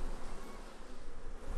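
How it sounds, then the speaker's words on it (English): Bees in a Chinese apple orchard give a continuous dense buzzing as they work the blossoms, a steady even swarm hum heard close with no talking. "Bees go right into the center of the flower and take the pollen exactly where it needs to go."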